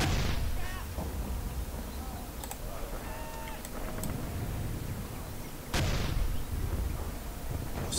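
Heavy cannon fire in a Pacific-theatre battle from the war strategy game Men of War: Assault Squad 2, with two loud booms several seconds apart over a steady bed of clicking and battle noise.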